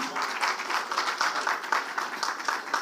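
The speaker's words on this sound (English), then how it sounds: "I want everyone to clap for them" An audience at a panel discussion on co-lending claps for the panelists, a lively patter of many hands with slightly uneven rhythm, moderately loud and continuous.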